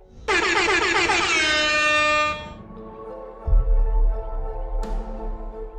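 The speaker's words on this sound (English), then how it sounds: "he jump scares the player using an air horn." A loud, blaring air horn blasts for about two seconds in a Five Nights at Freddy's Ultimate Custom Night jump scare, followed by a deep rumbling thud and a second sharp horn burst near the end.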